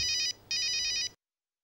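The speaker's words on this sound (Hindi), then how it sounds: "मिश्रा जी का फोन है, एक मिनट।" A phone ringtone trills in two short electronic bursts, close and clear, then cuts off into silence.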